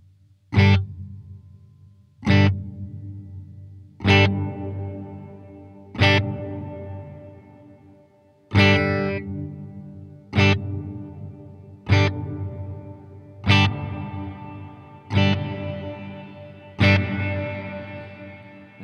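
An electric guitar through a Great Eastern FX XO Variable Crossover pedal, about a dozen struck chords each ringing out and decaying, the tone gradually opening from dark bass toward a brighter, fuller sound.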